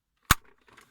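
A single sharp plastic snap as a Citroen C-Elysee air vent louver clicks into place, close and brief, followed by a few faint small rattles.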